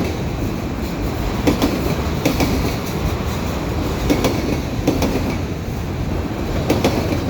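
Kansas City Southern freight cars rolling past on the rail line at Dorval in winter, a steady loud rumble with repeated clickety-clack wheel beats over the rail joints and no voices.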